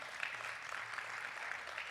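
Audience applause at an InsurTech awards ceremony in Hartford, a steady, moderately faint patter of many hands clapping from a room full of people.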